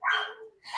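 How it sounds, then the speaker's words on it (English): A dog gives two quick, close barks or yips with a brief gap between them, loud and clear against a silent background. "I had to lock mine outside because I was like, she's going to bark and scratch at the door."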